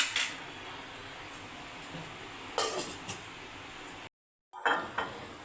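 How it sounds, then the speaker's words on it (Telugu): A lid set on a cooking pot of dal and rice for khichdi makes a couple of brief metallic clanks over a steady low hiss, followed by a short clatter after a momentary cut. "మూత పెట్టేసుకుందాము"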